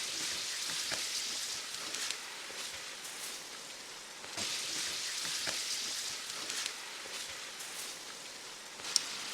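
Wine reducing in a pan with garlic gives a steady, close hissing sizzle like light rain that swells a little at moments, with faint scraping from stirring and no voices.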